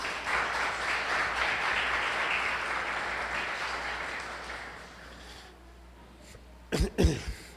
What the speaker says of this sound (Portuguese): E dá uma salva de palmas para o Senhor Jesus